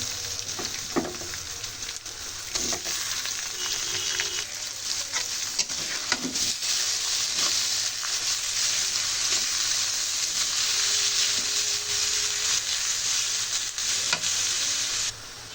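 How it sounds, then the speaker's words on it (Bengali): Small shrimp sizzle and fry steadily in a hot pan, with occasional stirring scrapes and clinks throughout. "চিংড়ি মাছটা ভাজা হয়ে গেছে, এখন টমেটো দিয়ে দিব।"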